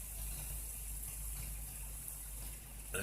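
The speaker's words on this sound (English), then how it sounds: "This is really rushing water" A waterfall's rushing water, swollen by heavy rain, roars as a steady, dense broadband wash that holds constant throughout, loud and continuous, with no voices over it.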